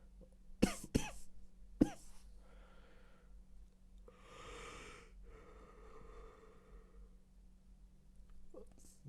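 Three sharp, harsh coughs close by, followed by heavy breathing and a throaty exhale, with quieter breaths continuing after.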